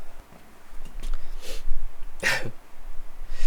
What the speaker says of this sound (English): I'm either coughing or I'm blowing my nose